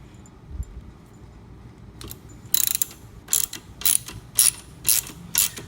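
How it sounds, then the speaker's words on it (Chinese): Ratchet loosening a threadlocked 14 mm screw on the center stand of a TIGRA scooter, first a few faint clicks, then a series of loud, close ratcheting bursts in an uneven rhythm, no talking. "先把它拆下来。"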